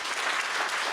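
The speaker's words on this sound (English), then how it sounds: "I think they deserve a big round of applause." A Career Expo crowd breaks into applause, a brief, dense burst of steady clapping that fills the moment with no voices over it.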